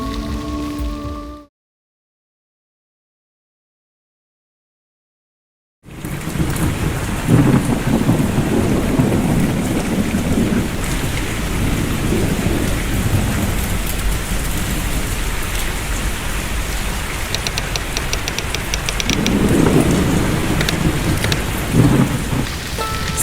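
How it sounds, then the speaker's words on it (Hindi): Steady rain falls at night with rumbles of thunder rolling beneath it, a continuous wash of drops that swells with low booms after a short silent gap. "स्याह रात हल्की बारिश में गीली हो चुकी थी।"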